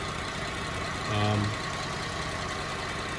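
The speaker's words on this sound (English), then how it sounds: "A little bit of whine from the power steering because it's got aerated because it was so empty." A Buick Enclave's 3.6-litre GM engine idles after a timing chain repair, with a brief rising whine from power steering aerated by low fluid over the steady, close engine hum.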